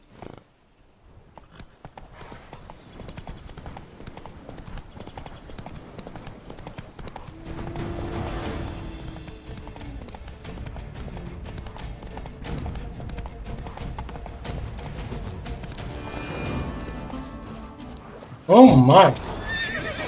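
Roach, the horse in a video game, trots with steady clip-clopping hooves under a constant low background, then gives a loud, brief neigh near the end, while someone speaks briefly.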